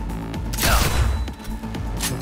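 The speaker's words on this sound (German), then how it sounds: "Schuss" A gunshot blast fired in the shooter game Cyberpunk 2077, a loud close boom with a rumbling tail, followed by fainter booms and game sounds.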